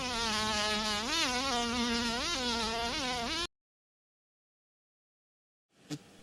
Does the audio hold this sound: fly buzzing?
yes